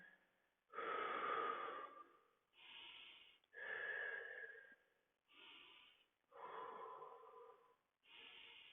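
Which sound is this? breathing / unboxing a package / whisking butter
breathing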